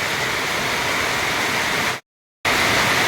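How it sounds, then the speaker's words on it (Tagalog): Heavy rain pours over a flooded rice field during an approaching typhoon, a loud, unbroken hiss of water that drops out briefly to silence before resuming just as strong. "Kaya bumubuhusan naman yung malakas na ulan."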